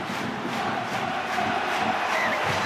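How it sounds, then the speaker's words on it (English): A rugby league playoff stadium crowd at Warrington Wolves versus Leeds Rhinos roars in a loud, continuous wash of cheering and shouting that stays steady throughout, with no individual voices standing out. "Listen to the crowd"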